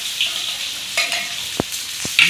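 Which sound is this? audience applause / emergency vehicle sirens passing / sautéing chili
sautéing chili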